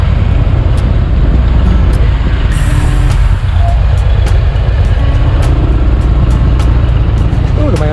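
Congested traffic crawls near Kuta Beach in light drizzle, a dense, continuous wash of car and motorbike engines close by, with occasional higher clatters and hisses rising out of the loud roadway rumble.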